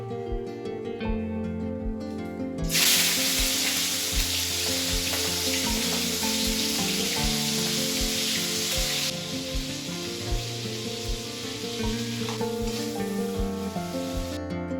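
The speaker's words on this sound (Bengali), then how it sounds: "চলো এবারে মাছ ভাজাটা বসিয়ে দিই।" Prawns fry in hot oil with a loud, dense sizzling burst that fills the middle stretch, then settles to a steadier crackle over a low background hum.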